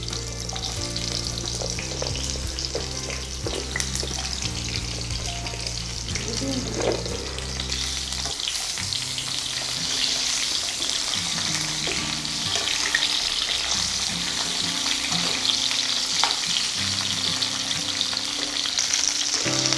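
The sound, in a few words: deep frying drumstick pieces in hot oil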